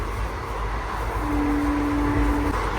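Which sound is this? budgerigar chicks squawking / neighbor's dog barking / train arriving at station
train arriving at station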